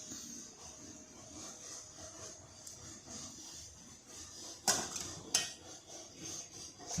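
A spoon scraping and clinking in a pot of lentil porridge as dissolved palm jaggery syrup is stirred in, steady soft scraping under a hiss with two sharp metallic knocks near the end, close and with no voices.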